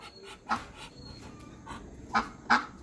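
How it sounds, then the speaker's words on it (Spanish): Farmyard poultry (ducks, turkeys and roosters) at an animal enclosure, giving a few short honking calls at uneven intervals from moderate distance, with the loudest call near the end over faint background noise. "A la casita de los animales, pato, pavo, gallo."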